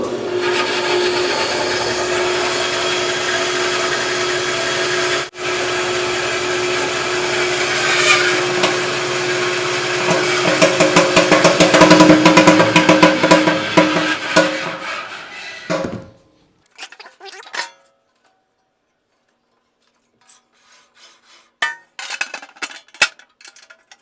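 Harbor Freight bandsaw fitted with an upgraded motor, a loud steady running hum and whine with rattling that swells, then winds down and stops, leaving scattered clanks and handling noises.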